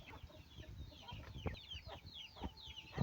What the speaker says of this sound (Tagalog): Kunti na lang mga manok dito sa sa labas ng malaking kulungan